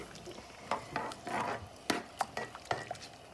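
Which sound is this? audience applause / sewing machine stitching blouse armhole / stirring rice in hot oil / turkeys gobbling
stirring rice in hot oil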